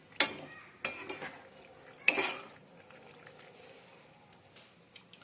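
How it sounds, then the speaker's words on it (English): Boiled penne pasta is stirred into a white sauce in a pan, giving a few soft wet squelches and clicks of the spoon against the pan. Three short bursts come early, then quieter gentle mixing follows. "now with soft gentle hands we'll be mixing the sauce"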